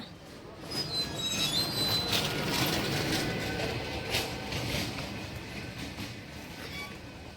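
A train near Ranaghat rumbles steadily along the rails, its wheels letting out high, thin squeals early on before settling into a continuous low roar.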